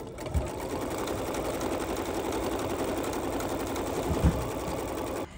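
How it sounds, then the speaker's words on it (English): A sewing machine runs a placement stitch for fabric appliqué, a steady close whirring hum that holds for about five seconds and stops abruptly, with a couple of faint knocks and no talking. "all I'm gonna do now is just stitch again without anything else"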